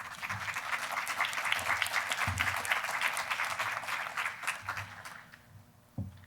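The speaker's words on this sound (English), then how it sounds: "I think for that you deserve a round of applause" Audience at a summit applauding, dense steady clapping from a sizeable crowd that holds for several seconds and then thins out, with a few scattered claps at the end.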